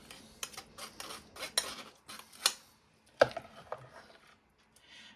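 Spoon pressing and scraping king prawn shells in a pan with tomato sauce, a series of sharp metallic clinks and taps at uneven intervals, close and fairly quiet, with no talk.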